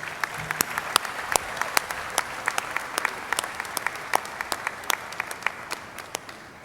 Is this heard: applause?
yes